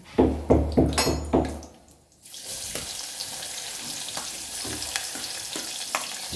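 Curry leaves and finely chopped onion hit hot oil, a few sharp clacks give way to a steady, even sizzle that carries on alone at moderate level.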